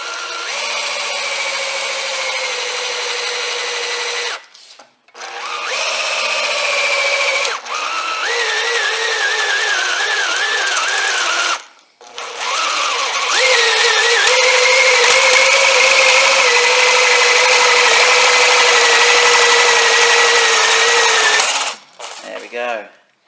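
Power drill boring holes for roof rails on a Range Rover L405, several sustained whining bursts separated by short pauses, close and loud, with pitch wavering as the bit cuts.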